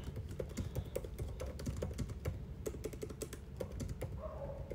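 Fingers type on a computer keyboard in a rapid, uneven stream of close, crisp key clicks over a steady low background hum, with no talking.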